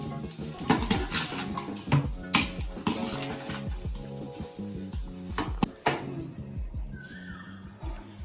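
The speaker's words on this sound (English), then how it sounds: "Now nicely give a mix." A spoon stirs and clinks through a drumstick pickle mixture of spices and lime juice in a bowl, giving a steady, rhythmic series of scraping, tapping mixing sounds close by.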